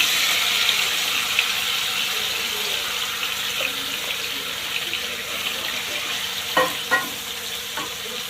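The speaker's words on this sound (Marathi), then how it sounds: "चला आता चिकन फ्राय करून घेऊ अगोदर।" Chicken fries in hot oil in a wok with a steady, close sizzle throughout, and a few light clinks of stirring near the end.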